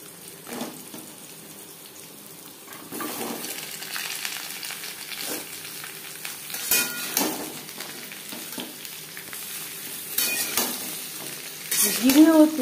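Papaya is stirred in a pan of hot oil with cumin seeds and a bay leaf, giving a low, constant sizzle broken by the repeated scrape and knock of a spatula.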